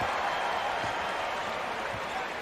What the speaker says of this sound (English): he'll get a well-deserved round of applause as he exits probably for the final time tonight